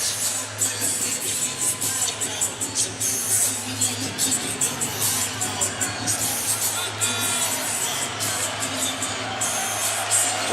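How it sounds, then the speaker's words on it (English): A large basketball crowd fills Mizzou Arena for a Texas A&M vs Missouri game, with a continuous murmur of babble, scattered shouts and a faint cheer, and a low steady hum underneath. "it's turned into a big crowd at Mizzou Arena"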